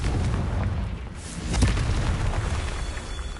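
A fiery Confringo spell explosion in a Harry Potter video game, a deep rumbling boom that swells and peaks midway, with a low sustained roar around it.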